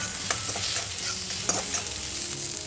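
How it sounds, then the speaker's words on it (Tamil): Chopped tomatoes sauté in a pan for garlic chutney, making a continuous sizzle under busy scraping and stirring of a spatula, with a few sharper knocks against the pan. "தக்காளியை இது போல் கட் பண்ணி சேர்த்து வதக்கிக்கலாம்"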